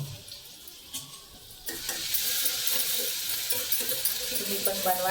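A sandwich filling mixture hits a pan after a mustard-seed tempering and starts to sizzle steadily, with light stirring scrapes over the hiss.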